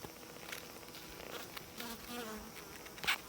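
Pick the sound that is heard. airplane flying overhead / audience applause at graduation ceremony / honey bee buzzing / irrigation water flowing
honey bee buzzing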